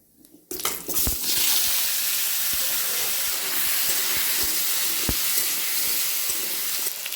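Potatoes dropped into hot oil tempered with cumin seeds, a quiet start then a sudden loud hiss that settles into a steady close sizzle with occasional pops and clicks, no voices.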